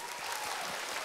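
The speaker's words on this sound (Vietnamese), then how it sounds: "Em nhận được những tràng pháo tay nồng nhiệt của khán giả ngày hôm nay" Studio audience applause for a singer on a televised Ho Chi Minh City singing contest, a dense, steady patter of many hands clapping throughout the short stretch.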